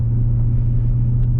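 An MG ZT 260 V8 burbles at low speed, a steady deep engine rumble heard from inside the car, continuous and fairly loud for a brief moment.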